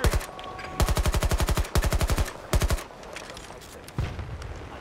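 Rapid automatic machine gun fire from Battlefield 2042 Hazard Zone, several tight bursts of evenly spaced shots, loud and near, separated by short pauses with a lone heavier thump near the end.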